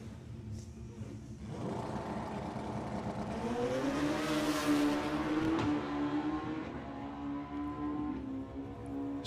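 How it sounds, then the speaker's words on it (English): A drag race car at a sportsman nationals event accelerating down the strip, short shifting with rising engine roar that builds, drops and climbs again, loud and sustained, heard from trackside. "Sounds like she's short shifting to keep the ET down a bit."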